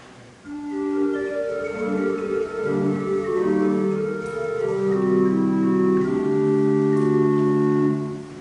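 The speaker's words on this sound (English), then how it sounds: "Next stop is the flute." Soft, pure church pipe organ tones on the flute stop play a slow phrase of held notes, a gentle fluted sound sustaining evenly before releasing at the end.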